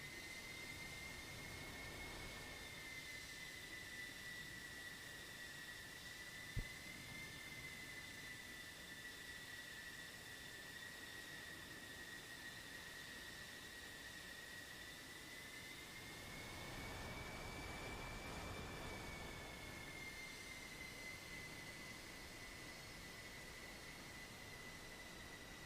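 F-14 and F-16 jets taxiing to the runway in a flight simulator, a steady high engine whine over a broad rushing roar that swells briefly partway through, constant and moderately loud.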